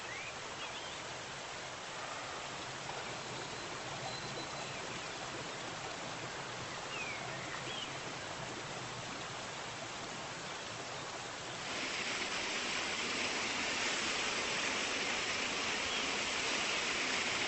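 A waterfall pours in steady, broadband white rush with no break, growing brighter and slightly louder partway through, with no voices over it.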